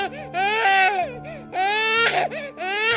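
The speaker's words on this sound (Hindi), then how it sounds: "बच्चा रो रहा है, आप क्या सुना रहे हो मेरे को?" An infant cries in loud, close wails with rising and falling harmonic bursts, three crying spells separated by short breaths, playing over a phone call.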